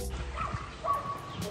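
A dog gives a few short yips and whimpering barks amid a noisy outdoor scene near flooded ground, with people talking and a steady background rumble.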